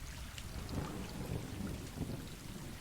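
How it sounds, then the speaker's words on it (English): Rain falls in the video game Stray, a soft, steady hiss with low rumbling underneath, quiet and continuous with no voices. "As you can see, it's raining."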